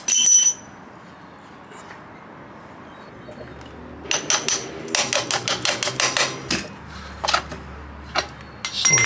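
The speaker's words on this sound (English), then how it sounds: "I'm going to use 2 adjustable spanners," Metal clicks and clanks of adjustable spanners working on a Yamaha Jog scooter front axle nut, a quick run of sharp taps in bursts close by, with a quiet background.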